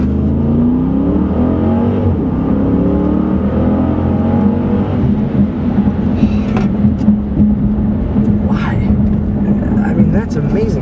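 A Jeep Grand Cherokee SRT8 in automatic drive, launched at full throttle, with its engine droning steadily and loud from inside the cabin as someone talks over it.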